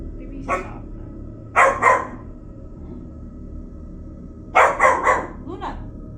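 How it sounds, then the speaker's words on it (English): Close-up, a dog gives several sharp barks indoors in a few quick bursts of two or three, separated by quiet pauses over low room hum. "who are you barking at?"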